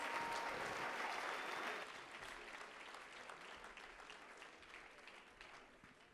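Church congregation clapping hands at a spiritual birthday celebration service, a dense steady wash of applause that stays fairly loud before thinning slightly toward the end, with no voices over it.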